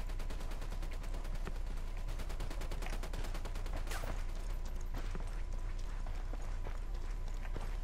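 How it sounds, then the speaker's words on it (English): Semi-automatic gunfire in Ghost Recon Wildlands, a steady run of evenly spaced single shots, loud and close over constant background rumble, thinning out toward the end. "I still prefer to fire in semi-automatic mode if I can."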